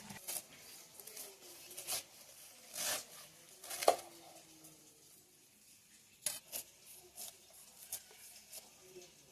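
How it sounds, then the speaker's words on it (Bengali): A knife cuts through pineapple in a few scattered, faint, sharp strokes, each a short crisp chop separated by quiet pauses. "বাজার থেকে দুটো আনারস আনা হয়েছিল, এগুলো এখন আমরা কাটবো"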